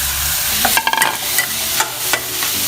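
Eel meat is stir-fried in a pan with curry paste, a loud close sizzle broken by quick scraping stirs and clattering spatula strokes, no voices.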